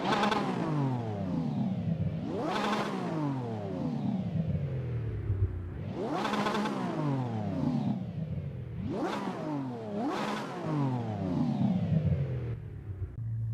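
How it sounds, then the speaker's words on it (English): A Lamborghini Revuelto in the racing game Assetto Corsa, heard from outside, revs repeatedly: four or five rising surges to a high shriek, each falling back through a raspy descent toward the low end, loud and steady without any talk. "a lovely little rasp as it comes down towards the bottom end"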